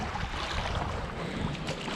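Paddling an inflatable Goosehill stand-up paddle board on open water, heard as a steady wash of water and wind noise with soft splashing strokes, close to the microphone and without speech.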